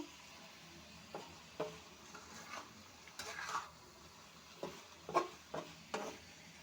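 Ash gourd and coconut fry softly in a pan while being stirred, giving a low sizzle under repeated scraping and clacking strokes of a spoon against the pan.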